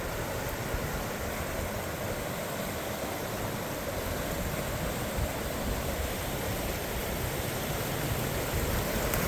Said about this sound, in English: I just love the sound of that water.